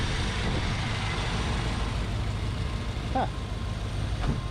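Smooth, steady idle of an engine fitted with a FiTech C3 EFI throttle body, a low even rumble heard close up, with a short murmur from a person partway through.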